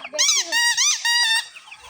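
Chickens giving a few short, high, bright calls close by, three or four quick bursts in a row before they fall quiet.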